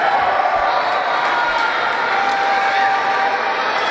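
A crowd at a varsity volleyball match between Harvest Christian Academy and Schaumburg Christian roars in a steady, loud wash of cheering and shouting for several seconds.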